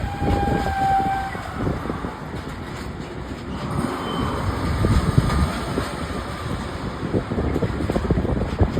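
A train rumbles at Tekirdağ railway station, a steady, heavy mechanical roar mixed with wind buffeting and a brief high tonal whine near the start.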